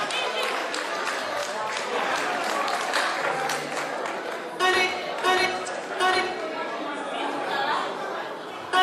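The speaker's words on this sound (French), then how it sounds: "Applaudissez très fort, please, s'il vous plaît." Crowd applause at an evening celebration of Guinea's independence anniversary in Manchester, sustained clapping mixed with loud chatter and some laughter, a few sharper claps near the end.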